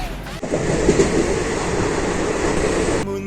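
A passenger train rolls along the rails in rain through green hills, a steady loud rumble with a rushing roar and faint clatter, cutting off abruptly near the end.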